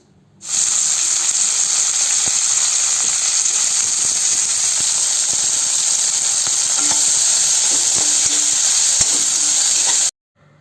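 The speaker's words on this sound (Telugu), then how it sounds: "ఆయిల్ వేసిన తర్వాత మనం ఇంతాక కట్ చేసి పెట్టుకున్నామే కాకరకాయ ముక్కలు వాటన్నిటిని మనం ఫ్రై చేయాలి" Pieces of bitter gourd fry in hot oil, making a loud, steady sizzle and hiss that starts abruptly and runs unbroken for about ten seconds, with faint stirring taps underneath.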